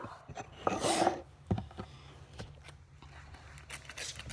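Puppy indoors making soft whimpers and small whines, a brief cluster near the start and faint scattered sounds after, with rustling and light knocks around it and no clear talking.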